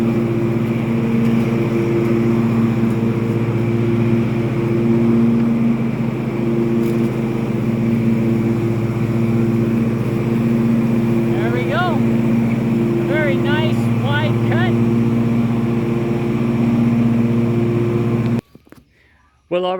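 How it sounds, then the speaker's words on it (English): A John Deere S140 riding mower runs with its blades engaged, a steady close engine drone with a constant low hum that holds nearly unchanged before cutting off at the end, with a few short voice-like sounds partway through. "Let's kick on these blades and just throw this one little strip here"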